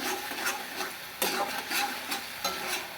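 A spice masala with Kashmiri chili powder is stir-fried in a pan for potato kosha, giving a soft steady sizzle broken by rhythmic scraping strokes of a spatula, several evenly spaced scrapes, close and moderately quiet.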